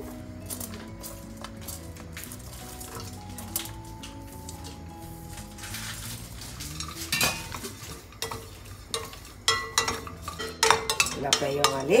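Clove, cardamom and dry ginger frying in a pan for tea masala, with a light sizzle under repeated metal scraping and clinking as the spices are stirred, the scrapes growing louder and more frequent toward the end.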